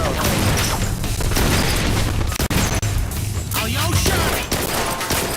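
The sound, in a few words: gunfire in the video game Blue Estate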